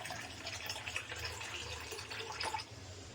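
Water pours steadily into a bowl of flour batter for bonda, a faint continuous trickle and splash lasting a few seconds with no voices.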